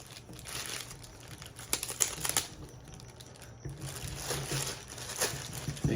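Thin plastic wrapping crinkles and rustles in irregular bursts as a CV Life 1-6x24 Eagle Talon LPVO rifle scope is unboxed, close and moderately loud, with brief handling noises in between.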